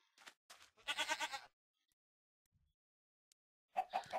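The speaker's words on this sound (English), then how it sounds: "What's that? Oh, it's a goat." A video game goat gives a few short bleats in quick succession, then falls quiet before another bleat near the end; the sounds are clear but fairly quiet, with no talking over them.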